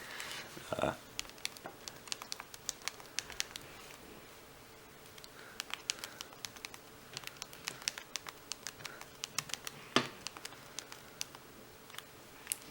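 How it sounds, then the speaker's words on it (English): Rapid clicking keystrokes on the full physical keyboard of a flip phone, a close, irregular patter of light taps continuing throughout at low level, with short pauses between bursts. "I love typing on this keyboard"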